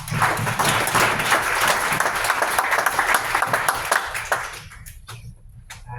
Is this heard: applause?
yes